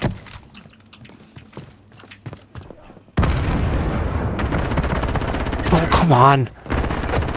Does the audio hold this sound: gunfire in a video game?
yes